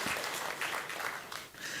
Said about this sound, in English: Let's have a big round of applause for the young minds presenting here.